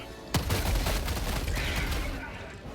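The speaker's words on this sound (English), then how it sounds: "Oh, I've shot you many times already, just die." Sustained, heavy automatic gunfire in Helldivers 2, opening with a sharp crack and then a continuous dense barrage that holds at a steady loudness for over two seconds before easing slightly at the end.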